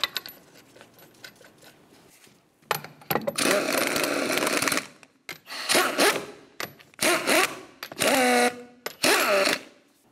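Rear wheel lug nuts, 21 mm, being run onto a 2009-2010 Pontiac Vibe with a power tool, heard as loud close whirring bursts broken by short pauses and sharp metallic clicks.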